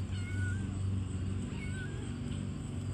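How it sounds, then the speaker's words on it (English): A small kitten meows a few times indoors, short rising cries close by over a constant low background hum, with no talk during the calls. "care of a little kitten named Ribbon"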